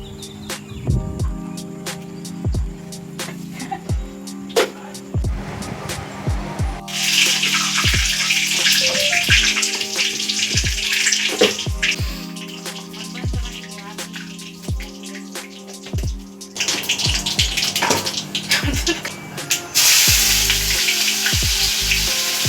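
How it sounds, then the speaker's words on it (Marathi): Spinach boiling in water in a pot for palak paneer, giving a steady loud bubbling hiss with water-like splashes and faint kitchen clatter, while people talk intermittently. "आता पालक बॉईल होतोय, नंतर होईल पालक पनीरची सब्जी."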